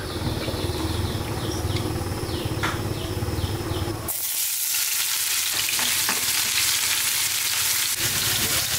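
Vegetables for a banana stem curry fry with a strong, continuous sizzle and hiss in a hot pan, becoming louder and brighter partway through, with faint stirring.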